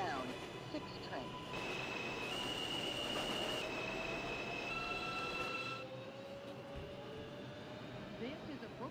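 A Manhattan-bound 6 train on the New York subway, loud and continuous: low rumbling roll, steady wheel noise and long high squealing tones from the rails, fading slightly toward the end, with an automated announcement voice partly audible.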